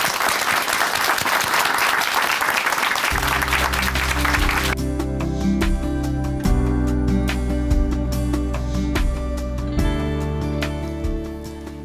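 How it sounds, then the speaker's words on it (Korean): An audience at a Korean Christian television broadcast claps in welcome as a guest from Chuncheon Hanmaeum Church comes forward. A dense burst of applause is soon joined by sustained music, and the clapping continues underneath until it tapers near the end. "박수로 환영하겠습니다"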